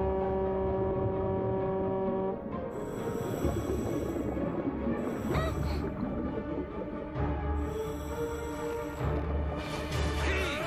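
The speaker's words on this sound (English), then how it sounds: "The air horn." Loud, sustained horn tones from an air horn in an animated rescue setting, sounding in long blasts that start and stop repeatedly over a steady low hum.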